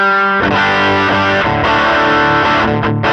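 Distorted electric guitar through a Line 6 Helix amp model with a high cut softening the fizz: a dense, sustained overdriven chord, loud and close, with several rearticulated strums and no voices.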